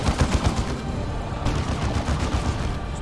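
Sustained automatic gunfire barrage in Dawn of War 2, rapid repeated bursts of loud, close shots with a steady rhythm for a few seconds and no talking.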